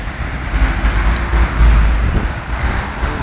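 Road traffic rumbles outside a modern train station in Germany, a steady, loud low-frequency wash with wind buffeting the microphone and no distinct vehicle passes standing out.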